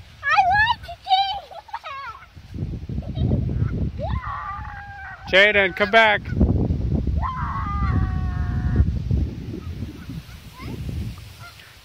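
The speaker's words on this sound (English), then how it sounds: "Jayden, don't mess with the geese." Geese honk loudly in short repeated bursts close by, several calls rising and falling over about twelve seconds, mixed with a child's and an adult's voices talking and calling out over outdoor background noise.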